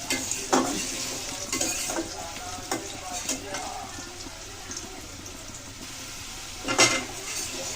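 A fish head frying in a pan with potatoes, soft sizzling under intermittent scraping and stirring, with sharper spatula clacks against the pan at a few moments.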